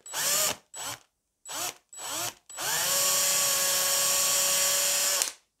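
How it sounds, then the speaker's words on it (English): A 2.5mm drill bit bores holes through a guitar board: four short whining bursts of the drill, then one long, steady drilling run that stops abruptly, close and clear. "I'm just going to drill those through so we can put a screw through"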